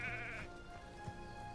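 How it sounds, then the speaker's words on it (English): A goat in a Hogwarts video game gives a short nasal bleat up close, a wavering cry that breaks off quickly, leaving a soft game ambience behind it. "Immortal goat."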